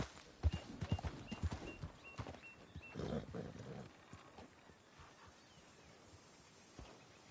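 Horse hooves clip-clop in the Red Dead Redemption video game, a rapid run of sharp hoofbeats early on that thins into scattered steps, with a snorting, roaring animal sound in the middle and a brief voice nearby.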